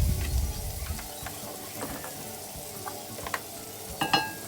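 Chili and turmeric powder being stirred into a hot pan while frying for a Madras lamb liver curry, a soft steady sizzle with scattered scraping clicks of the spoon, close and fairly quiet.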